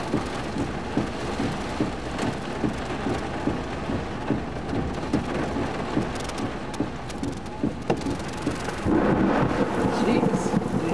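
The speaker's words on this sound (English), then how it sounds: "there's some winds and blinding rain, and the lightning is like no other storm that I've been through this entire year" A severe electrical thunderstorm with hail, blinding rain and gusting winds around 40, heavy rain roaring steadily throughout with repeated thunder rumbles and cracks, growing louder and denser near the end.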